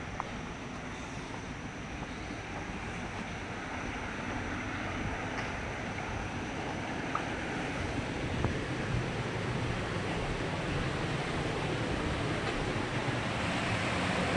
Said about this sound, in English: The spillway is slanted, so it gently releases the water downwards.